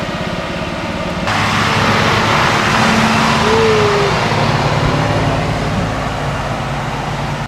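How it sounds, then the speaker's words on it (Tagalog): A truck passes on a hilly park road, its steady engine rumble and road roar staying loud and close throughout and rising a little midway, with no talk. "May truck."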